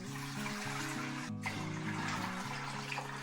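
Bath-warm water pours steadily for bread dough, a constant close rushing stream heard alongside soft background music, with no talking.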